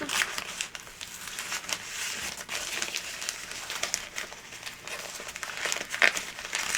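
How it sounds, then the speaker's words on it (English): Close, crisp tearing and crinkling of tear-away embroidery stabilizer in a series of quick rips and rustles, fairly quiet. "I'm just tearing around to remove that tear away"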